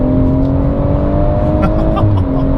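A BMW M140 with a REMUS exhaust revving, a loud close engine drone with shifting pitch and a few short pops and crackles near the end.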